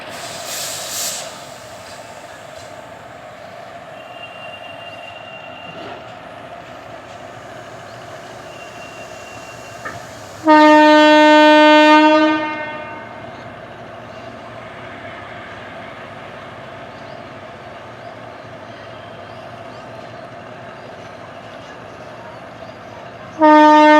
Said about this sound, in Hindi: तो देखिए वापस लोकोमोटिव जा रहा है।